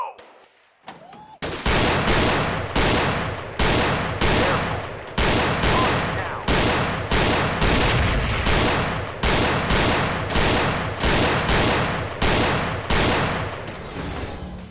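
Pistol gunfire in the VR shooting game Gun Club VR, about twenty loud, evenly spaced shots in a fast steady rhythm, each with a short decaying tail, after a brief quiet start.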